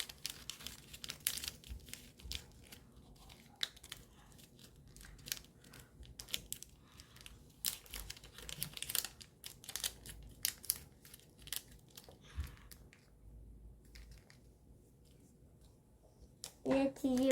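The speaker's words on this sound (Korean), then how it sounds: "이제 또 뒤집어서 가운데에 맞춰서 접어줍니다." Sheets of origami paper being folded for a ninja spinning top give soft crinkles and sharp creasing taps, close and quiet, with intermittent rustling and a brief voice near the end.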